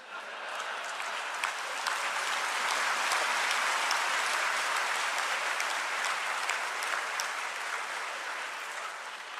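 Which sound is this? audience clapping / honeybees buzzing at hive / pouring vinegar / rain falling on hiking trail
audience clapping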